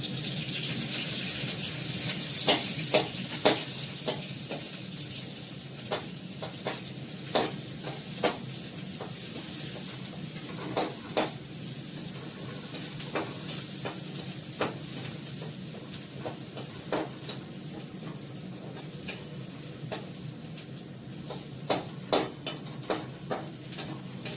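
Onion sizzles loudly in hot oil for dal, a steady frying hiss broken by regular sharp clinks and scrapes of a spoon stirring against the pan, with no talking.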